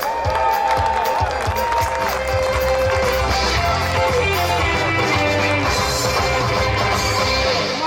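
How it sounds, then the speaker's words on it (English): Audience applause and cheering for this year's nominees at the 2017 Trop Rock Music Awards show, a dense, steady wash of clapping from a large crowd that holds at full level throughout, with music or voices mixed underneath. "A round of applause for this year's nominees."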